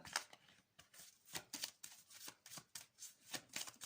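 A tarot card is drawn from the deck in a quiet room, a soft, close run of papery flicks and slides repeating in quick irregular pulses.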